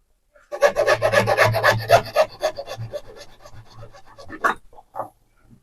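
A small pipe piece is sawn for a homemade chappal stand, a loud close rasping stroke sequence of about four seconds that slows and tapers off with a few final scrapes.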